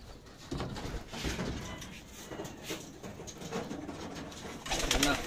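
A racing pigeon coos in soft, repeated calls against a noisy outdoor background, with scattered rustles and knocks around it.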